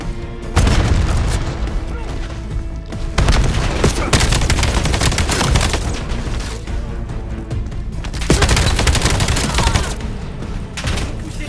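Frag grenade booms and dense bursts of gunfire in the video game Call of Duty Black Ops 7, loud repeated barrages with short lulls, mixed with game voices speaking.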